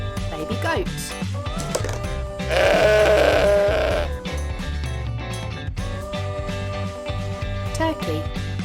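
Toy animal sound of a baby goat bleating, a loud wavering bleat in the middle over background music, with a voice speaking around it.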